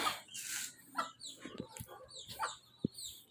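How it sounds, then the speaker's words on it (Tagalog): Bantam chickens cluck and chirp in a backyard, with a few short calls scattered among rustling and faint background noise, and no one speaking. "So yun yung bantam natin."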